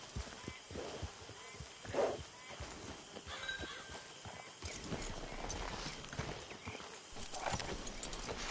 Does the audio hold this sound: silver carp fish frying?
no